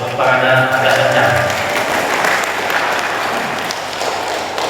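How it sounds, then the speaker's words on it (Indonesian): Loud audience applause fills a provincial legislative inauguration session hall, steady clapping from a large crowd, with a voice and sustained tones heard at the start. "Tepuk tangannya agak kencang."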